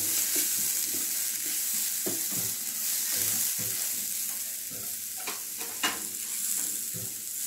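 Grated coconut and spices roasting in a pan for Kerala-style chicken curry, a soft steady sizzle with intermittent scraping stirs and light clatter.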